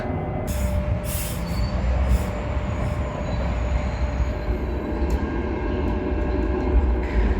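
A Sheffield tram runs steadily close by, its rolling wheel rumble continuous and loud for the whole stretch, with faint high squeals and brief bright clatters early on. No one speaks.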